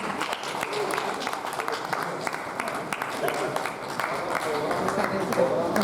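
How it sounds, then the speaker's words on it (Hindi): An audience at a Hindi poetry gathering (kavi sammelan) claps steadily throughout, a moderate crowd applause with people talking over it. "कृपया ताली बजाएं।"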